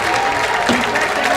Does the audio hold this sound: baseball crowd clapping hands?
yes